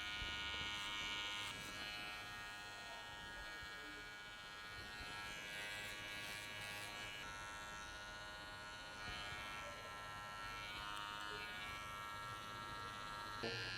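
An electric hair trimmer buzzes continuously while blending a skin fade at a barbershop, a quiet close-up whine with slight shifts as it moves, no one talking.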